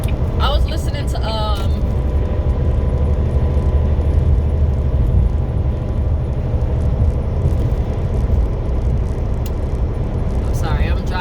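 Steady road rumble inside a car being driven downhill, constant and loud throughout, with a few brief higher tones near the start and end.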